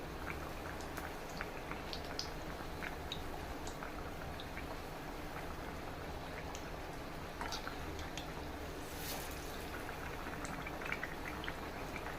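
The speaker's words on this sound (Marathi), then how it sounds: "ह्याप्रमाणे बाकीचे सुद्धा तळून घेऊया" Bread pakora, stuffed bread patties, frying in hot oil give off a steady, even sizzle with tiny crackles and pops that continue without pause, and no one speaks.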